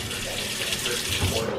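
Water runs steadily from a kitchen tap into a sink, a close, continuous hiss and splash that lasts throughout the brief moment.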